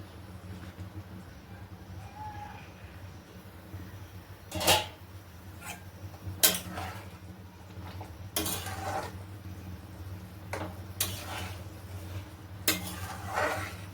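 A lid goes onto a pot of Bengali rui fish curry as the water comes to a boil, making several metallic clanks and knocks over a low steady hum, nearby and with no voices.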